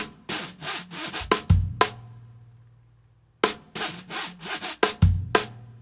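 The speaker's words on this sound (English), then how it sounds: "the fun really starts when you scratch that rhythm instead" A drummer plays a groove with broadband scratching strokes on a snare, a quick rhythmic pattern with low drum thuds, pausing briefly before resuming.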